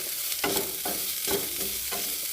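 Onions sauté in a pan with a constant sizzle, punctuated by four evenly spaced scraping strokes of a stirring spoon.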